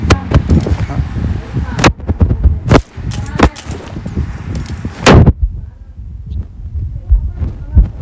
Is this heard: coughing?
no